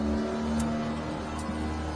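A Yamaha F300 outboard motor on a 2023 Stabicraft 2250 Ultracab boat running at a steady idle, a constant low hum with a faint tonal whine, close by and even in level throughout, with no talk.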